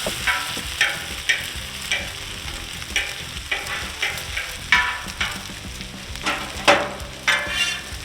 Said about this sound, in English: Alright, I'm just going to move the bacon around,